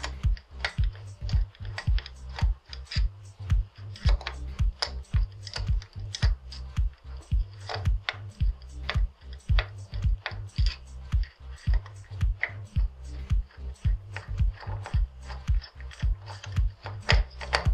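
A screwdriver loosens the mounting screws on a Moore Industries IPX2 electronics module, making a long run of close, rapid ratcheting clicks over a low steady hum, with no one talking.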